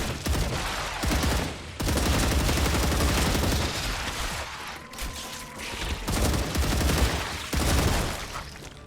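Rapid bursts of heavy gunfire from a big gun in StarRupture, loud and close, in long sustained volleys broken by brief pauses, with mechanical clatter in between.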